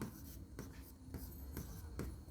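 Handwriting four-digit numbers out in words for a class 3 maths exercise, with soft scratching strokes and regular little bursts as each word is written, quiet and close.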